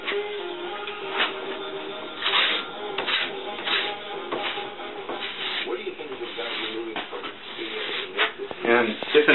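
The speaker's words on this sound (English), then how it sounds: "Because the scraper is sharp, we're cutting the wax off in thin sheets like that" A sharp scraper pulling wax off a cross-country ski in thin sheets, a series of close rasping, scraping strokes at uneven intervals, with someone talking over them.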